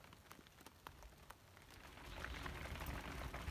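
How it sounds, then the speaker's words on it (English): Rain falls outside a cave at Lava Beds National Monument, with scattered sharp drops tapping a surface at first, building into a soft, steady patter that grows louder, with no voices. "we're getting some rain"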